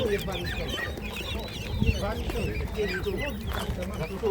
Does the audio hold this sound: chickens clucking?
yes